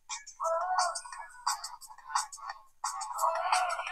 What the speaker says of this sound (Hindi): आप यहाँ पर सुन सकते हो बैकग्राउंड में म्यूजिक जो है वो प्ले हो रहा है